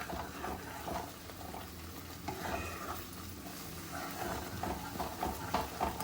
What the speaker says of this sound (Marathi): पाच मिनिटात आपल्या मिश्रणाला चांगली उकळी आलेली आहे